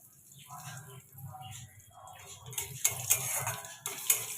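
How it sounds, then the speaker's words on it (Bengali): Sweet potato pieces tipped into a wok and stirred with a little oil, sounding as close clatter and scraping of utensil on pan that grows busier in the second half, after a faint low voice murmurs at the start. "এবার আমি মিষ্টি আলুগুলো দিয়ে দিলাম।"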